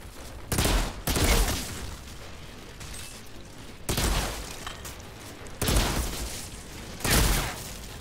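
Heavy sniper rifle shots in the shooter game Outriders, four loud booming blasts spaced roughly every two seconds, each with a long rumbling tail. No one speaks.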